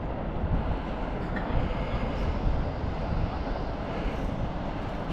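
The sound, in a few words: train passing below Edinburgh Castle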